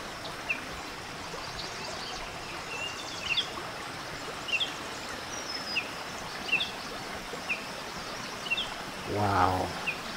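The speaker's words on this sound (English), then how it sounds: "It's beautiful along this bubbling brook" A bubbling brook flows steadily beside a muddy riverside trail, a continuous close rush of water with small birds chirping faintly above it and a brief louder splash near the end.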